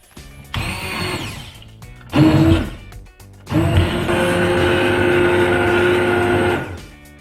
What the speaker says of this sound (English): So now I need this blender. I'm going to blend it.